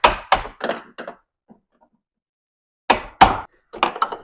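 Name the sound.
hammering a door hinge pin out with a long extension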